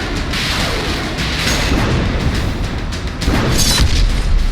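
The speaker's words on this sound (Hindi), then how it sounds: "एक बार में सैकड़ों परमाणु मिसाइल फायर।" Missile launch boom from news footage, a loud sustained rumbling roar with bursts of crackling blast noise swelling near the middle and again toward the end.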